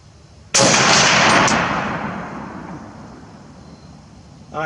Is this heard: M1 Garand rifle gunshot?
yes